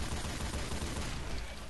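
Sustained automatic fire from a mounted machine gun in Left 4 Dead 2, a loud, close, rapid stream of shots that rattles on without pause and eases slightly near the end.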